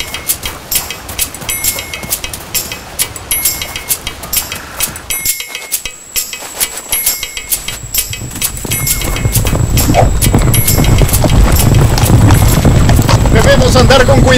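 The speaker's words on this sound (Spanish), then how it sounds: "Son 5 hombres a caballo." Horse hooves clip-clop steadily over a rumbling, noisy background that grows louder in the second half, with voices talking over it.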